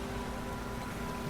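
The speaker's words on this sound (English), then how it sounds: "It's pretty rainy" Steady rain in the video game The Witcher 3, a dense, even hiss of falling water that holds constant at moderate level, with no voices over it.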